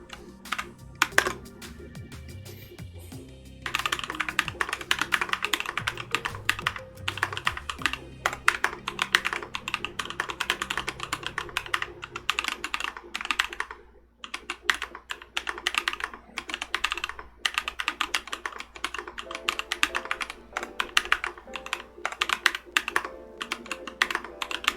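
Fast, continuous typing on a flat, unangled Keebio Quefrency split mechanical keyboard fitted with Boba linear switches: close, crisp key clacks in quick irregular bursts with one brief pause, and no voices.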